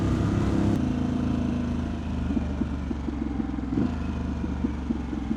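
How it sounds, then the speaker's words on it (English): A 2025 Harley-Davidson Pan America ST rides through Raleigh with a steady, throaty engine rumble, then downshifts with a rise in revs and a pulsing, stepped engine note, close and continuous. "There's that downshift, just sounds so good."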